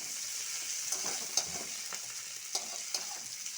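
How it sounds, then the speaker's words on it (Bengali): Chopped tomato and coriander leaves fry in a pan, making a soft, quiet sizzle with several sharp spatula scrapes and taps scattered through it and no voices. "দিয়ে আর একটু ভেজে নেব।"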